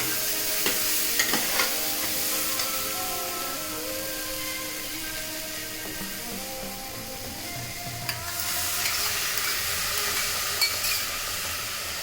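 Curd is added to prawn pulao in a hot pan and stirred, giving a steady sizzling hiss with scraping utensil strokes and light clinks. A brighter burst of sizzle comes near the end.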